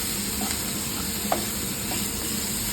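Spring onion and soya chilli stirred in a hot pan, a steady sizzle of frying with soft scraping strokes of a spoon throughout, close and continuous with no talking.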